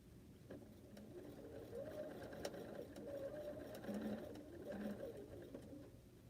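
A sewing machine stitches batik fabric into log cabin quilt blocks, a steady soft mechanical whir running throughout at moderate level with faint background sounds.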